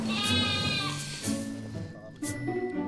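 A ewe bleats in quavering, drawn-out cries, with several bleats in a row at close range while her hooves are trimmed on a farm. People talk in the background.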